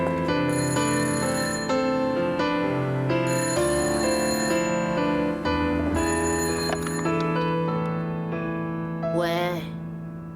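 A telephone ring tone plays loud and close, a bright repeating electronic melody on an outgoing call, steady for several seconds before a rising warble near the end, with no talk over it.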